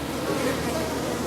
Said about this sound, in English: They are the swarm of bees